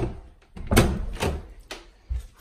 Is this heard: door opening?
yes